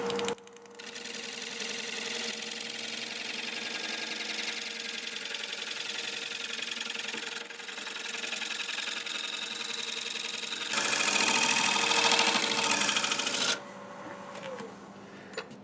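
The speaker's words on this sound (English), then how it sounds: "I have the lathe running in reverse at 380 RPM." Wood lathe running in reverse at 380 RPM while a birch piece turns, a steady mechanical hum with a tonal whine, joined midway by a louder, brighter scraping rush for a few seconds before settling back.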